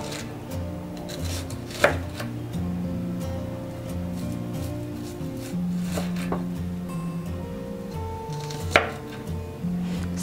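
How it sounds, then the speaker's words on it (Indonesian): A knife slicing an onion for a sweet-and-sour fu yung hai, with soft cuts that build to two sharp knocks against the board. It sounds close and moderately quiet, with kitchen hum underneath and no talking. "Langkah pertama, kita iris dulu bawang bombaynya."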